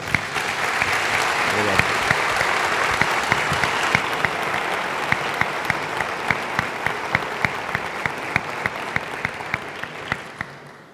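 Steady, full applause from an audience at an evening church gathering lasts several seconds, with a few sharp, nearby individual claps standing out before it tapers off at the end.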